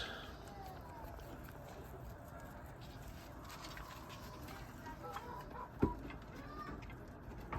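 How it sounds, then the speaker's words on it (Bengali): Chickens, a rooster and Chinese ducks living together in a village yard, scattered faint clucks and calls over steady outdoor ambience with a single sharp knock, no talking heard. "মুরগি, চীনা হাঁস একসাথে বসবাস।"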